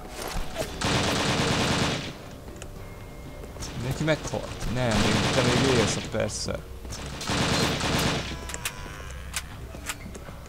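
Gunfire in the military shooter Operation Flashpoint: three long bursts of rapid automatic fire separated by short pauses, loud and close, with someone talking between and over the shots.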